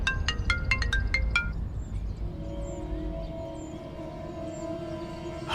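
A mobile phone rings with an incoming call, its quick repeating electronic tone pattern sounding clearly for about a second and a half before dying away into a low background hum.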